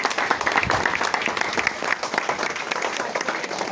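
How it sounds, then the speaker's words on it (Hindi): An audience breaks into dense, sustained applause to welcome a guest at a gathering; many hands clap at close range, steady and loud throughout without a break. "तालियों से इस्तेकबाल किया जाए भाई"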